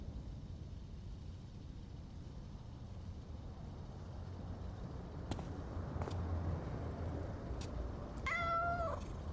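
Cats meow in a short series of faint, mid-distance calls near the end, over a low rumbling background with a few sharp clicks before.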